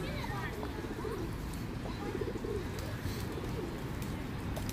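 Pigeons coo outdoors, soft repeated throaty calls running beneath people talking nearby, with faint street and hoof-like clatter in the background.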